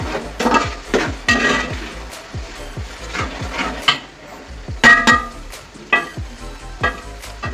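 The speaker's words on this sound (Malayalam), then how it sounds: "ഇഞ്ചി ഇട്ടതിന് ശേഷം നമ്മൾ നന്നായിട്ട് ഇളക്കണം" Ginger stirred in a hot cooking pan, with a spoon scraping and knocking against the pan in an irregular rhythm over a light sizzle, fairly close and clear.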